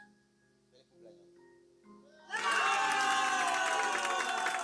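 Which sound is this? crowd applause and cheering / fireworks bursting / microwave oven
crowd applause and cheering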